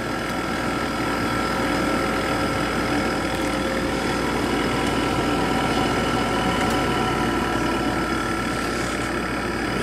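A 1997 Sharp window air conditioner runs on its low setting with a steady, loud mechanical hum and rumbling drone, a constant even tone from the fan and compressor with no breaks or voices.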